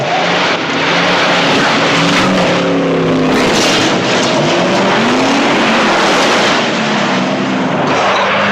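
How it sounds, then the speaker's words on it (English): A stunt car jump in the 1978 film Hooper, with a loud, continuous engine roar that fills the whole stretch without a break and no voices over it. "see another car jump"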